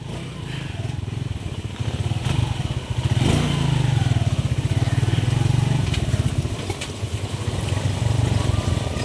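A motorcycle rides over a rough, potholed dirt road, its engine droning steadily and loudly with rattling clatter from the bumps. The revs surge briefly partway through, and faint voices sit under the engine noise.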